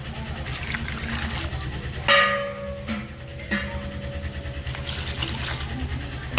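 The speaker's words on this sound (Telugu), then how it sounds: "వీటిని కూడా శుభ్రంగా కడుక్కోవాలి కదా ఇంకా వాటర్ పోసుకుందాం" Water pours and splashes into a container, with a few clattering bumps and a steady low hum underneath.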